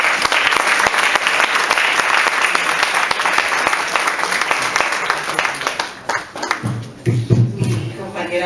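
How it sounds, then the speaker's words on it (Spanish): An audience breaks into dense, sustained applause at a book presentation, loud and close, tapering into scattered claps near the end as a voice begins to speak. "le pido gracias y un fuerte aplauso a este hombre que se animó a denunciar"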